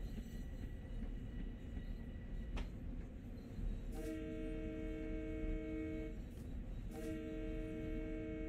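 A Long Island Rail Road train's horn in Train Sim World sounds in two clear blasts over a steady rumble of the moving train: one long blast, a brief gap, then a second shorter one.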